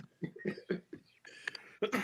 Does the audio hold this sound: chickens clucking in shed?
no